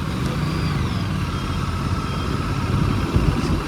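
An Aprilia RS 457 motorcycle cruising in fifth gear, its engine a steady, continuous mid-pitched drone with rushing wind noise layered over it, holding an even level throughout with no voices.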